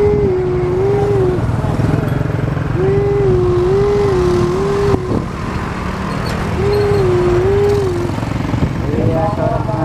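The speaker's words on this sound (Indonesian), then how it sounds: "seorang pengendara motor menerobos" Motorcycle engine noise in congested Indonesian holiday traffic on the Puncak route, a rider cutting through the jam, with rising and falling revs and horn-like tones over a steady rumble; voices talk intermittently.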